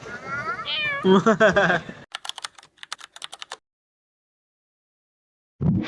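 A cat meows several times in a rising, drawn-out series up close, followed by quick keyboard typing clicks, then silence before a voice begins.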